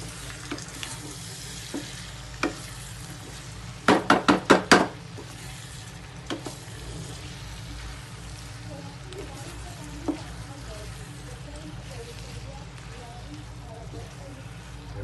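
Green chilies and onion fry in a pan for a spicy okra and onion dish, a low steady sizzle broken by a quick cluster of clattering stirring taps and a few scattered knocks.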